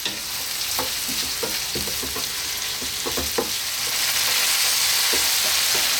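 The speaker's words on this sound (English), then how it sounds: "Okay, so our tomatoes are cooking down really nicely." Tomatoes simmer and cook down for shakshuka in a pan, giving an even sizzle with a scatter of soft scraping stir strokes throughout, close and fairly loud, with no talking.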